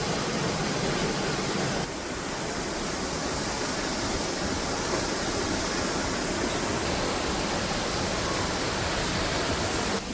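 A waterfall tumbling over rocks in the Blue Ridge mountains, heard as a loud, steady, unbroken rush of white water that fills the whole scene without letting up.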